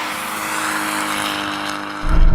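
A Toyota GR86 and a Mk4 Supra launching side by side in a drag race, a loud rising engine roar with a strong, deeper surge of power in the final half second.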